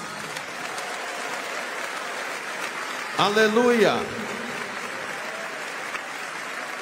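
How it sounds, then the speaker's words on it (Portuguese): A church congregation at a national Pentecostal conference claps steadily throughout, with a short burst of a loud raised voice calling out praise midway over the applause. "Agora eu quero ouvir glória a Deus misturado com palmas."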